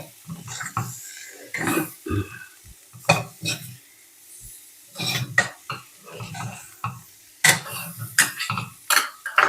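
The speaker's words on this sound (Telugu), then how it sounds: "నిదానంగా కలుపుకుందాం, చితికిపోకుండా." A bitter gourd fry with lentil powder and jaggery is stirred slowly in a pan, with soft intermittent scraping strokes and a faint sizzle between pauses.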